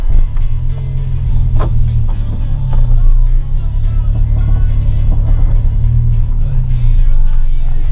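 A Ford car engine idling loudly and steadily up close, a deep continuous rumble with a faint voice briefly audible over it.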